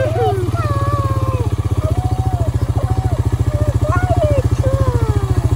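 A four-wheeler's small engine idles steadily with a fast, even chug, close by, while a voice talks over it throughout.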